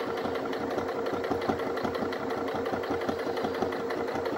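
Cloth armor pieces are machine-stitched in a steady, unbroken run: a close, rapid whirring rhythm that holds level throughout, with no voices.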